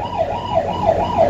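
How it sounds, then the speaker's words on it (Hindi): A dual-lens Wi-Fi 360° pan-and-tilt security camera sounds its built-in siren alarm, a loud wailing tone that rises and falls in quick repeating sweeps, close and alone. "यहाँ पे सायरन भी हमें देखने को मिल रहा है"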